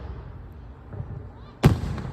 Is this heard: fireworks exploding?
yes